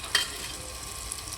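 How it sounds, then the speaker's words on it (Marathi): Onion frying in a pan with tomato and turmeric, a soft, steady sizzle with a brief stir-clatter near the start, close and fairly quiet, no voices. "कांदा जरा जास्त लाल होईपर्यंत चांगला भाजायचा."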